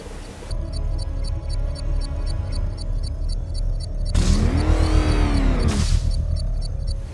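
The Batmobile's engine in the video game Batman Arkham Knight gives a steady, loud whirring drone that rises into a revving swell partway through, then settles back. No talking is heard.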